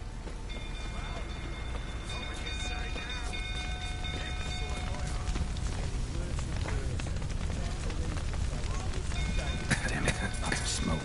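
Horses clop and stir inside a burning stable in The Witcher 3: Wild Hunt, with steady hoof-like thuds beneath a dense, constant roar of crackling fire and game ambience; a voice briefly cuts through the din.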